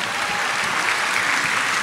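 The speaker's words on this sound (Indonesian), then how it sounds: "Tepuk tangan lu yang paling meriah buat Tuhan." Steady applause from a church congregation during a sermon, a dense continuous wash of clapping filling the whole moment with no voices over it.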